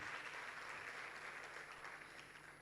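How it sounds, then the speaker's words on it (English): An awards ceremony audience claps in a continuous even roar, heard from across the hall and easing off slightly toward the end. "Let's give them another huge round of applause."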